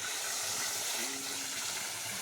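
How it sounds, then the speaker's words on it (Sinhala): Water falling and gushing in a steady, dense rush near a temple in Haputale, Sri Lanka, continuous and fairly close with no break. "මෙන්න වතුර ඇවිල්ලා වැටෙනවා."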